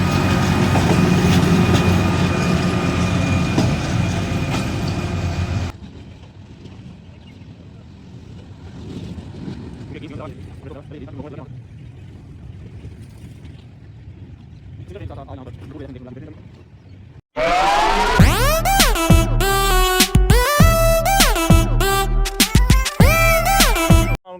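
The ML935 train at Badamibagh railway station rumbles along with wind buffeting the microphone, then gives way to a loud, sustained, strongly tonal blast like a horn near the end.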